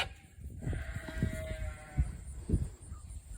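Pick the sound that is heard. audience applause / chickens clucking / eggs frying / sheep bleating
sheep bleating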